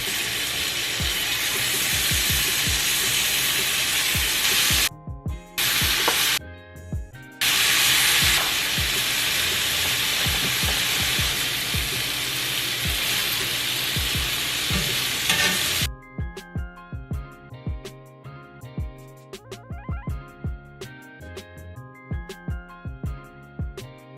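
Shrimp sizzles loudly and steadily in a hot pan as it browns, with two brief breaks, then the frying drops away into quieter clinks and musical tones.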